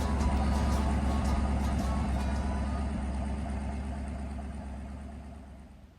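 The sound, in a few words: car engine idling while warming up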